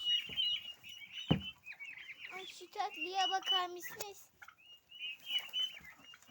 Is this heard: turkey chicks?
yes